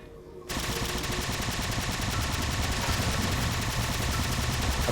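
Rapid turret gunfire in the video game Halo 4 bursts in after a brief quiet start, a loud, continuous stream of shots that keeps up steadily to the end.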